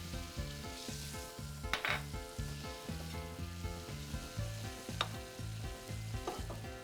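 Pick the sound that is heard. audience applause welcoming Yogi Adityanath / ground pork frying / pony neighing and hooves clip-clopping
ground pork frying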